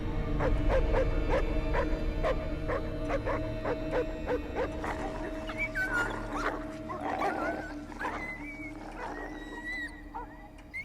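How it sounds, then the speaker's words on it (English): A dog barking in a tense film scene, a rapid run of sharp barks at first, then scattered yips and growls over a low droning background that gradually thins out. "the sound of the dog tells us of that danger's intention"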